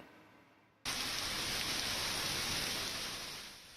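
Heavy monsoon rain pours down in Mumbai as a dense, steady hiss that cuts in abruptly after a near-silent opening and stays loud before easing slightly toward the end.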